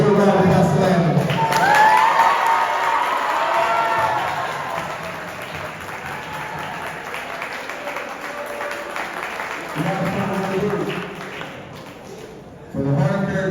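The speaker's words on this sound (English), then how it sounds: "Give a round of applause" Audience applause fills a school athletic banquet hall, a steady wash of clapping mixed with crowd voices and some cheering, easing off midway and then swelling again near the end.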